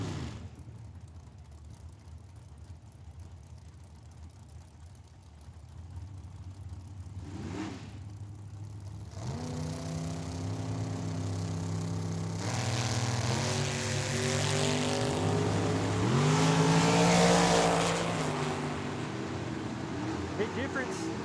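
A Chevy S10 and a dragster launch side by side down a drag strip, quiet idling giving way to a rising, loud engine roar with climbing revs and a sweeping pass, an announcer talking over the opening moments.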